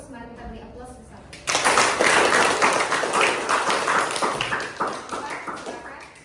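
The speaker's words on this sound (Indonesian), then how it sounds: "Mari kita beri aplaus bersama" Classroom applause for a student group: after a quiet spoken moment, a burst of many hands clapping breaks out loudly and continues steadily, gradually thinning toward the end.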